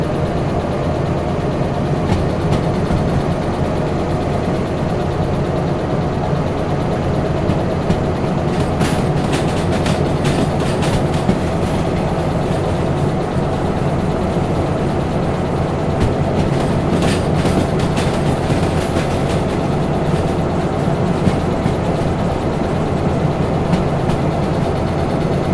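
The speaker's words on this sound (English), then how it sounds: "I'm slowing the train down." A train rolls steadily along rails in the Derail Valley railway simulation game, a loud continuous rumble with faint clickety-clack and engine drone throughout, no voices.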